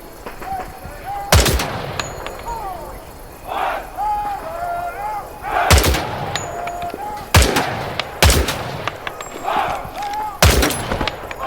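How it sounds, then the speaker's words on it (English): Gunshots from the Vietnam-era shooter Hell Let Loose: Vietnam, several loud close rifle shots spaced a second or two apart over continuous battlefield ambience with distant firing. "Shoot the targets ahead, aiming for the helmet to guarantee an instant kill."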